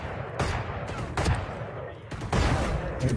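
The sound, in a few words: gunfire in a video game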